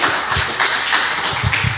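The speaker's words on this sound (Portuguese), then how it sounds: "Se você puder, aplauda o Senhor, querido." A church congregation claps for the Lord after a prayer, a dense wash of overlapping handclaps that stays steady and close for a couple of seconds, with no talking over it.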